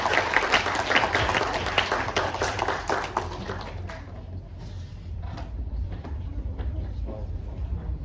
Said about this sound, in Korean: 저희 팀원분들께 박수 한번 주시고 마치도록 하겠습니다